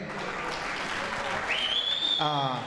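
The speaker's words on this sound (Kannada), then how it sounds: "ಅವರಿಗೆ ಮತ್ತೊಮ್ಮೆ ಚಪ್ಪಾಳೆ ಬರಲಿ" An audience claps for a children's dance at a Deepotsava festival program, a sustained, even wash of applause joined near the end by a whistle-like tone and a voice.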